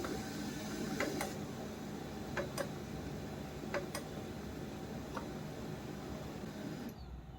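An HP LaserJet M1136 printer initializes and tries to pick up paper that never feeds, giving a steady mechanical hum with several sharp ticking clicks at irregular intervals before going quiet.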